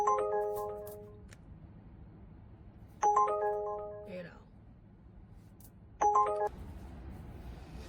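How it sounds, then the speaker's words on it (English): A phone plays three identical short notification chimes spaced about three seconds apart, clear and moderately loud over a quiet room background. "getting a ton of notifications"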